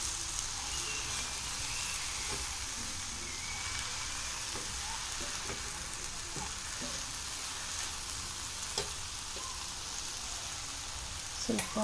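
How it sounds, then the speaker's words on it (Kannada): Gongura (pundi) leaves frying in oil in a pan, a steady close sizzle and crackle with occasional stirring scrapes, running continuously without talk. "ಈಗ ಪುಂಡಿಪಲ್ಯ ಸೊಪ್ಪು ಕೂಡ ಚೆನ್ನಾಗಿ ಹುರ್ಕೊಳ್ಳೋಣ"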